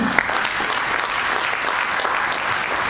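An audience applauds at an official speech honouring a ministry's chief of staff, dense and even clapping from many hands held at a steady level for the whole stretch.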